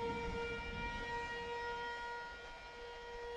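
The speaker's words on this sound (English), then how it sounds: "A droning sound sounds across the wood like an actual storm siren used for tornadoes." A steady droning siren wails with a sustained tone, holding over a low rumbling background throughout, fairly distant and even in loudness.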